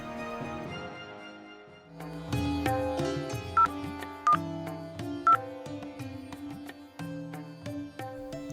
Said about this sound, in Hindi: इतनी रात को फोन कर रही हो?